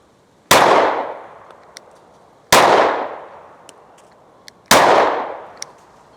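A PSA Micro Dagger pistol, loaded from a factory Glock magazine, fires three sharp, loud shots about two seconds apart. Each shot rings and decays briefly, with a few faint clicks in between.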